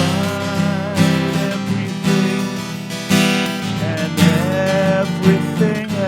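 An early home recording of a worship song plays, with sustained melodic singing over dense, harmonic accompaniment, loud and continuous with swelling phrases.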